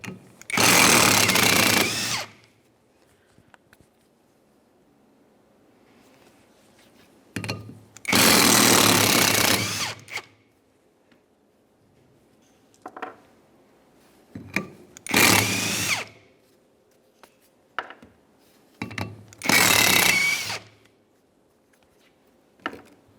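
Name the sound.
power tool removing 14mm bolts from wheel bearing hub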